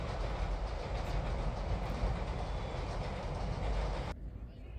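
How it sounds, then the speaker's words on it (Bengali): A train rolls past beside wide flower fields, a loud rumbling, clattering roar that holds steady and then cuts off abruptly near the end. "পাশ দিয়ে ট্রেন যাচ্ছে, পাশেই ফুলের বাগানের সাথে ট্রেন যাওয়াটা মানে একটা অভূতপূর্ব দৃশ্য।"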